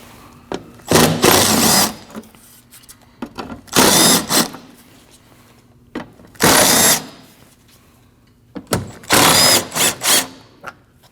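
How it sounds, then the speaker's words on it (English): Power ratchet or drill spins out 8mm bolts from the rear bumper valance panel of a 2014-2023 Jeep Cherokee, four loud buzzing bursts about a second each separated by short pauses and small clicks. "Once you remove your 4 8mm bolts, you can pull this down a little bit."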